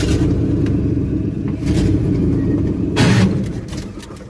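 A car engine running again after a restart, with a clutch problem, gives a steady close rumble with slight swells as it idles and revs a little, and no one speaks.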